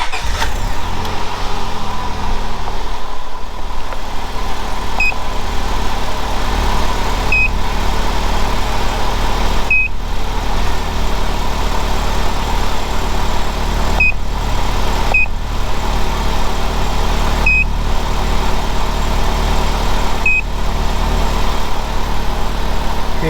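A Honda Civic engine idles steadily after the ignition is switched on, a constant mid-pitched running drone with a few short electronic beeps chirping over it at intervals.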